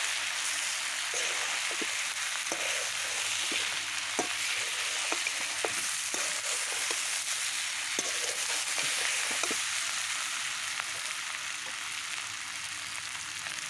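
Mutton and potatoes fry with Kashmiri chili powder in a pot over a wood fire in a clay stove. A dense, constant hiss-like sizzle runs under scattered light clicks and scrapes of stirring, close and loud, with no voices.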